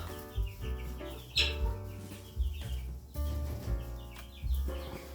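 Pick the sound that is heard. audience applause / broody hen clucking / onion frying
broody hen clucking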